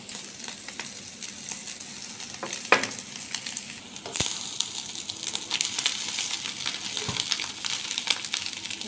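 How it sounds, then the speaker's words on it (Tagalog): Cooked rice is tipped into a hot pan and stir-fried with cabbage and onion, giving a steady, close sizzle broken by scraping spatula strokes and a few sharp clinks against the pan, with no talking. "dahil naluto na yung ating mga ingredients, ilalagay na natin itong kanin"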